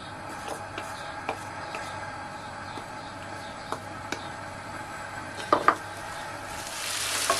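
Onion and garlic sautéing in a pan, a soft steady sizzle broken by light clicks and a couple of louder spoon knocks, with the frying swelling brighter at the end.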